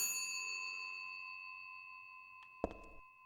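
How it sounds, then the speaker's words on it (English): In the video game Silent Hill 3, a faint ringing tone fades slowly in a quiet space, followed by a short cluster of soft clanks and knocks near the end. "we did hear the phone ring slightly"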